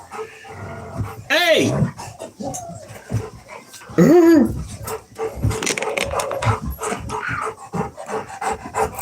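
A puppy whimpers and yelps in short high bursts near the microphone, with a couple of sharper cries standing out, while a person talks and coos over it throughout.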